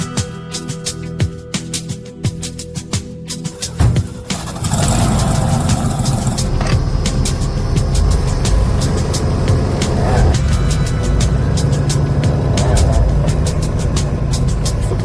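The Roadkill mullet car's engine starts after some clanking, then idles and pulls away steadily, loud and close, with a brief voice early on.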